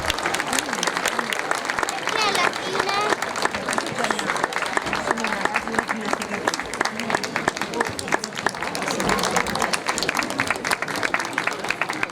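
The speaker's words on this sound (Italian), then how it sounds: "Un grande applauso a queste ragazze." Sustained applause from a crowd, dense rapid clapping continuing steadily throughout, with some cheering mixed in.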